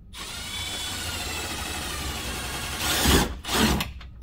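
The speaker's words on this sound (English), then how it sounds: "we're just going to take our 1/4 inch bit and match drill this inner hole" A power drill with a 1/4 inch bit whirs steadily for a few seconds, then surges twice in short, louder bursts as it bites through a plastic liner on a Ford F250/350 Super Duty truck; close and alone, no voices.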